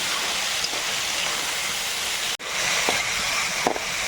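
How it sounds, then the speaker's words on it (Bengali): Mung dal frying in oil in a pan while cooking khichuri. A steady, loud hiss and sizzle runs continuously, with a few faint clicks and a brief dip in the middle, and no voices. "তো মুগ ডাল এখানে কিছুক্ষণ ভেজে নিলাম"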